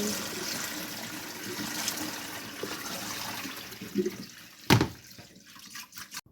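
Soaked rice noodles being strained, a continuous close splash and rush of draining water that thins to scattered drips and a clatter near the end, with no talking.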